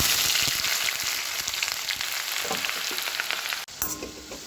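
Two large finely chopped onions fry in hot oil in an iron kadai, giving a loud, steady sizzle that carries on without a break and dips only briefly near the end.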